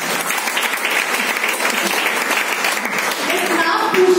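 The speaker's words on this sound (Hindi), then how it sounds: "वेरी गुड, तालियां होनी चाहिए." A seminar audience breaks into loud, continuous applause, many hands clapping at once in a steady rhythm, with voices faintly mixed beneath the clapping.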